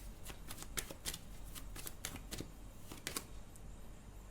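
Tarot cards being shuffled, a close, continuous riffle of crisp card slaps and flutters with irregular sharper clicks throughout, with no voice.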